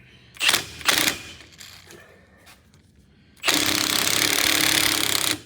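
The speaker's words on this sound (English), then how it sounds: "Wheel studs are going in." Wheel studs go into the rear hub of a 1964.5 Ford Mustang convertible during a disc brake conversion. Two short, loud mechanical rattling bursts are followed by a sustained buzzing run from a power tool, with no talking.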